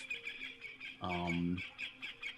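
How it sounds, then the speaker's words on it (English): Electronically synthesized bird calls from a Roland TB3 sound like a character-filled, mutated digital bird: bright chirps and squawks throughout, with a louder, buzzy, harmonic call swelling in the middle. "I've actually started using some electronic equipment like a Roland TB3 to create my own bird sounds"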